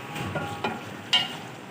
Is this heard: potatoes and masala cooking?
yes